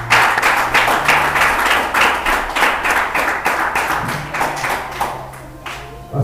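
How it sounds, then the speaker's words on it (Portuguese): A church congregation claps in unison during a sermon, loud rhythmic beats at an even pace of roughly two per second, with a faint sustained tone beneath and no speech. "Você pode aplaudir o nome do Senhor?"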